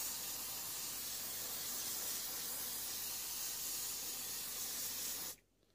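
A spray coating hisses onto a 3D print in one steady, close burst lasting several seconds before it cuts off abruptly into near silence.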